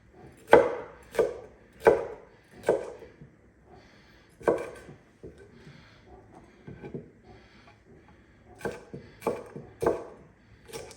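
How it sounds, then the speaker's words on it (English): A knife chops vegetables on a board in quick bursts of sharp, close thuds, with a short pause in the middle before another rapid run of cuts. "I'll be chopping now the vegetables"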